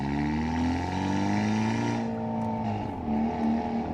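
A car engine fitted with a Whoosh downpipe, in sport mode, revs hard and steadily, its loud droning exhaust note shifting pitch up and down with a raspy, crackling edge throughout.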